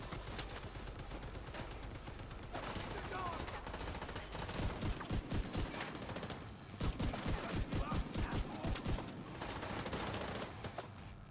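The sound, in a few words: shotgun firing in a video game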